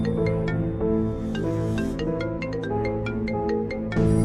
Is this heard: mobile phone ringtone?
yes